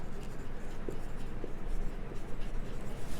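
A pen writing by hand on paper during a Hindi-language Class 10 physics lesson on image formation by a concave mirror, giving a steady soft scratching over a low background hum for about three seconds.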